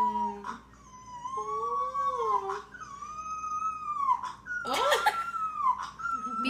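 Small dog howling and whimpering up close, a series of rising and falling wavering cries with short pauses and a sharper yelp near the end.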